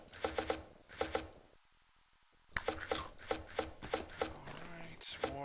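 Wood chopping in the town-building game Towns: sharp, evenly spaced knocks in short bursts of two or three, a brief quiet gap, then more rapid chops, close and fairly quiet.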